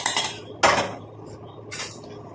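Tea decoction strained into a bowl, heard as a few sharp metallic clinks and clatters of a strainer and utensils against the bowl, close and distinct with quiet gaps between.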